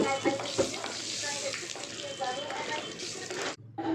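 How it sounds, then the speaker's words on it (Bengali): Cumin, a bay leaf and dried red chillies sizzle and crackle in hot oil for a steady few seconds, close and fairly loud, with brief quieter gaps and a sudden drop near the end. "ফোড়নটাকে জাস্ট থার্টি সেকেন্ডস মতো একটু ফ্রাই করে নেব"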